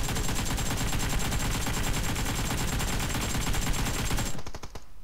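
Sustained rapid automatic AK rifle fire in PUBG Mobile, loud and close, a dense rattling burst that runs for about four seconds and then cuts off abruptly.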